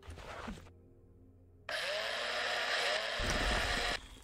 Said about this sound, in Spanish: Taladro.